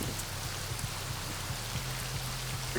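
Steady rain falls throughout in a dense, even wash of drops, with a low hum running underneath, during a live tabletop Dungeons & Dragons game.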